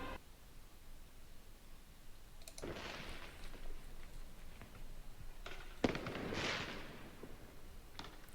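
Distant firecrackers pop during a night of riots in Argenteuil, a few sharp bursts with crackling tails, heard faintly over steady background hiss.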